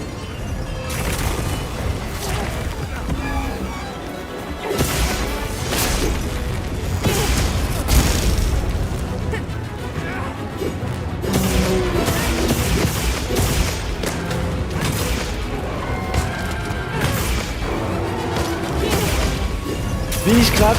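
Heavy metallic thuds and booming combat impacts from a shield bashing a monster's head in Monster Hunter Wilds ring out in a dense, continuous stream of game action noise.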